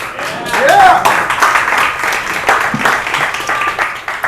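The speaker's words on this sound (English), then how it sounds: "Let me get a round of applause, please." Crowd applause in a music lounge fills the room loudly, steady dense clapping mixed with whoops and voices talking over it.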